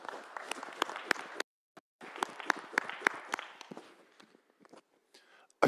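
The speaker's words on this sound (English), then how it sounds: "Let's give them a round of applause" A small audience claps for the presenters at an afternoon wellbeing session: scattered, fairly quiet hand claps in two bursts separated by a short pause, thinning out toward the end.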